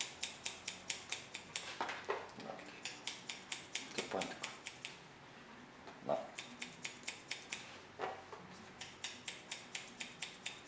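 Repeated crisp snipping of scissors point cutting hair in a steady rhythm, close by, with a few brief pauses and faint background murmur.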